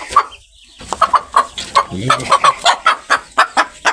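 A rooster clucks loudly and repeatedly in a quick, steady rhythm of short throaty notes, close by, with no talking.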